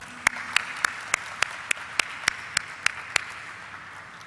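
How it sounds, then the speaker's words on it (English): At a stock exchange listing ceremony, slow, evenly spaced single claps ring out one by one, about ten in a steady rhythm, sharp and close against a quiet room. "a very loud round of applause to everyone here"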